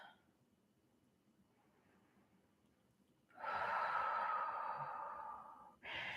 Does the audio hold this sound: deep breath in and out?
yes